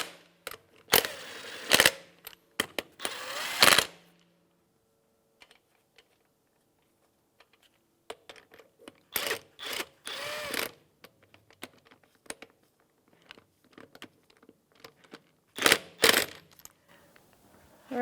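Lug nuts on a 2015-2020 Cadillac Escalade front wheel being snugged with a 22mm socket: bursts of sharp metallic clicking and ratcheting, close and clear, separated by quiet gaps.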